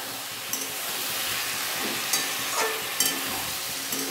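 Spices frying in a pan for Bengali sukta give a steady close hiss, punctuated by a few faint stirring scrapes as they are turned over.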